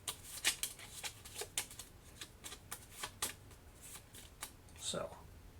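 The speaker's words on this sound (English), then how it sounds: "And we're just going to go ahead and shuffle." A deck of board game cards is shuffled at close range: a run of crisp riffling bursts in quick succession, fairly quiet, with faint room tone and no voices.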